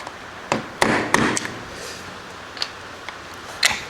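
Sharp metal taps on tabs of a Ferguson TEA35 tractor governor part as they are bent over, several irregular close strikes spaced across a few seconds with quiet gaps between.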